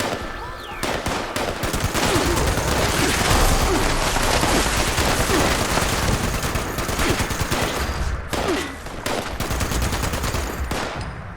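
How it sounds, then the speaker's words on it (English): Sustained rapid gunfire from a Fallout 76 firefight against blood eagles and explosive turrets, loud and near, with dense bursts running almost continuously and a few brief gaps toward the end. "Hello? I'm shooting at you."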